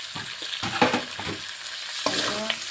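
Cumin powder and turmeric are stirred in a frying pan for a Bengali katla fish curry: a close, busy sizzle with irregular scraping and stirring strokes and no speech.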